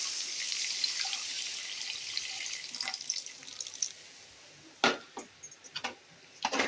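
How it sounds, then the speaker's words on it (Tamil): Tamarind water is poured into a pan of kulambu, a continuous trickling splash for several seconds followed by a few sharp clinks and taps of utensils, close up and quiet. "கரைச்சி வச்ச புளி தண்ணியை சேர்த்துப்போம்."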